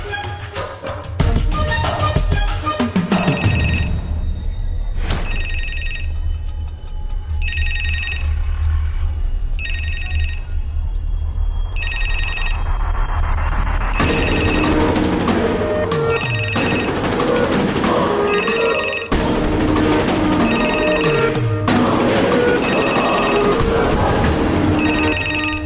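A telephone rings in repeated bursts with short pauses between them, loud and close, over a steady low background rumble and music-like tones.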